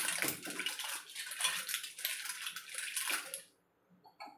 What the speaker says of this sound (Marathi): पुन्हा मी यात गार पाणी घालते आणि स्वच्छ धुवून घेते.